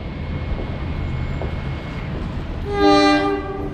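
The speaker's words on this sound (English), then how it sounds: "And here's the train going inbound." An inbound Montclair-Boonton Line train passes Glen Ridge station in New Jersey, with a low rumble of railcars building before the train horn sounds loudly in a sustained blast near the end.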